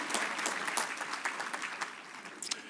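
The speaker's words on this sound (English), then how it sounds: "Clap for yourself" A graduation crowd at a university undergraduate commencement claps for themselves, a brisk scattered flurry of many hands with some louder nearby claps, gradually thinning toward the end.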